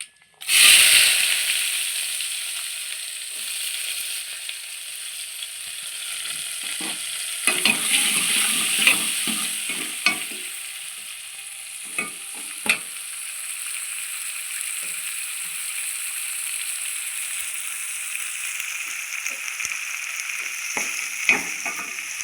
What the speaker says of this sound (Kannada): ಇಲ್ಲಿ ನಾನು 3 ಹಸಿಮೆಣಸಿನ್ಕಾಯಿ, 1 ಈರುಳ್ಳಿ ಮತ್ತು 2 ಟೊಮೊಟೊನ ಕಟ್ ಮಾಡಿ ಇಟ್ಕೊಂಡಿದ್ದೀನಿ. ಇದನ್ನು ಹಾಕ್ತಾ ಇದ್ದೀನಿ.